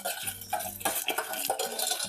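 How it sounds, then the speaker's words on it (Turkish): Tomato paste with a little pepper paste sizzles and is stirred in a pan, with a steady frying hiss and scraping, clinking stirring strokes close by. "Güzelce kavuruyorum."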